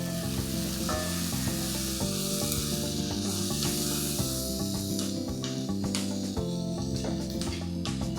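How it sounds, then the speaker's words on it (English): Ingredients for escovitch sauce sautéing in a pan over medium heat, a dense continuous sizzle with stirring, close and loud, alongside a steady background tone that stays level throughout. "So you're basically going to saute this for about 5 minutes in total on medium heat"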